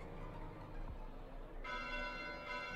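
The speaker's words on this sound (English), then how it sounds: "Bells? This late at night?" Bells ring at night in the video game Fire Emblem: Three Houses, a faint, distant tolling that swells into sustained ringing tones partway through, over a low background murmur.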